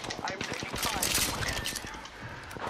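Rapid video-game gunfire: a dense burst of sharp cracks in quick succession, loud and close, with a voice talking over the shots.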